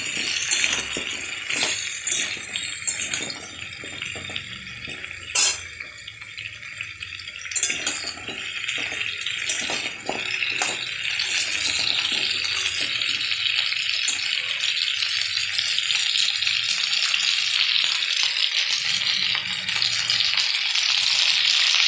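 Cut potatoes frying in a hot pan for a vegetarian pumpkin and Malabar spinach dish, a steady loud sizzle that builds and evens out, with a few light clinks and rattles early on and no talking.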